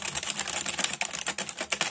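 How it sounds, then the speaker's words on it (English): Fingers rattle quickly across the keys of a Roar RGB wired membrane gaming keyboard, producing a rapid, fairly soft but clicky patter of close keystrokes with no voice over it. "So let's test the keys."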